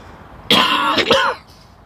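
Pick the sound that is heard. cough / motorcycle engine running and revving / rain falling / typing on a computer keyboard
cough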